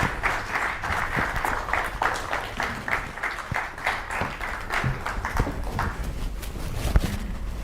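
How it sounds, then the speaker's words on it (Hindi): A studio audience applauds to welcome a guest on a Hindi television talk show: a steady patter of many hands clapping for several seconds, fairly loud and even, with no speech over it. "जोरदार तालियों के साथ स्वागत कीजिए"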